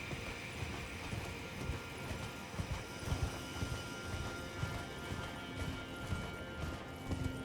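Torrent, the spirit horse in Elden Ring, gallops with a steady rhythmic clip-clop of hooves, moderately close and fairly quiet over a low game ambience, with no talking.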